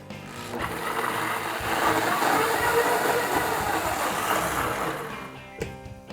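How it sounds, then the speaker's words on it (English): Blender whirring through wet muffin ingredients with almond milk and vanilla, a loud, steady churning drone for about five seconds before it stops. "And you're gonna blend these wet ingredients together."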